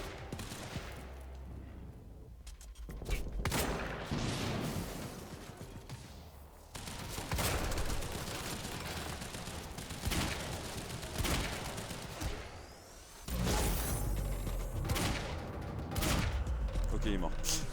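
Gunfire in the video game Quantum Break, repeated bursts of shots and booming blasts scattered across a busy combat scene, with someone talking over parts of it.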